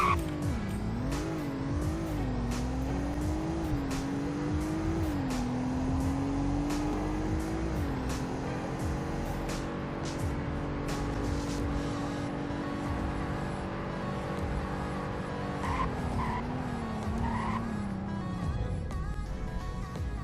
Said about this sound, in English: Here's your 0 to 100 in braking test.